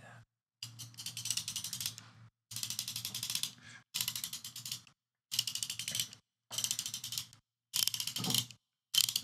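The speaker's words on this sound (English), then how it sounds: "Jordan, that's a socket wrench." A socket wrench ratchets in six separate bursts, each a dense, rapid run of close metallic clicks lasting about a second, with short silent gaps between them.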